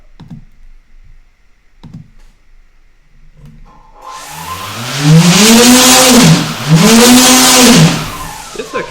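A KDE5215XF-435 brushless motor driven by a VESC controller spins up from about four seconds in, its loud rising whine dipping briefly and climbing again, after a few faint clicks in a quiet start.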